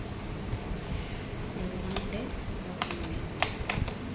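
An ordered package of colour pencils being opened by hand, a series of faint crinkles and sharp little clicks and snaps over a steady hum of room noise.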